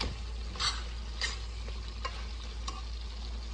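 A pot of spicy Telangana-style chicken curry with a tomato gravy is stirred, a few soft scrapes of a spoon over a low, steady simmer and hum, with no voices.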